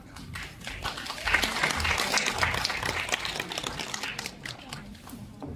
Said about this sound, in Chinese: 感谢各位掌声鼓励啊！